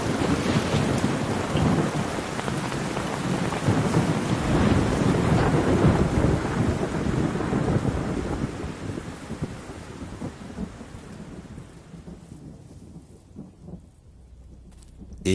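A heavy thunderstorm in the wild: dense, loud rain with rolling thunder pours down steadily, then thins and quiets over the last few seconds, with no voices.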